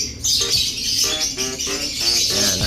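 A pigeon shut inside a shipping box gives soft chirps and calls, close and fairly steady, with scuffling and rustling from inside the box and no talking.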